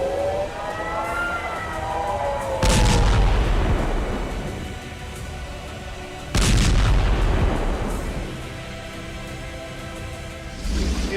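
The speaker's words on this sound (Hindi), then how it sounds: "लेबनान का आसमान इस वक्त इजराइल के बारूदी हमलों से धुआं धुआं हो चुका है" Israeli bombardment of southern Lebanon sets off two heavy, booming explosions several seconds apart, each a sudden loud blast that rolls away slowly, with a wailing siren rising and falling before the first and a third blast starting at the end.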